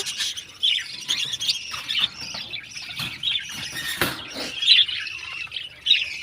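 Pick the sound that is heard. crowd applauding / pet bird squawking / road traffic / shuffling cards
pet bird squawking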